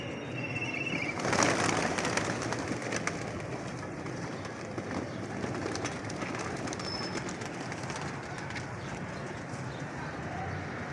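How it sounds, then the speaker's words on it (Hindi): A large mass of pigeons at a bird market in Lahore produces a dense, steady background of cooing and fluttering, with faint bustle and a brief louder burst near the start. "दोस्तों ये बेस से हाशा कबूतरों का ढेर लगा हुआ है इधर।"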